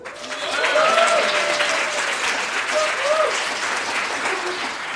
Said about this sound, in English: can we give it a round of applause for our hosts?